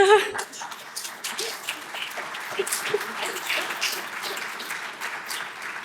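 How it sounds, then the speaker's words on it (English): Audience clapping during a student's talk at a university summit, a dense patter of many hands at moderate level, with a voice speaking briefly near the start. "You don't need to clap."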